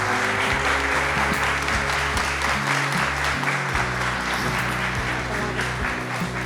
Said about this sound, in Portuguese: Uma salva de palmas para todas as homenageadas.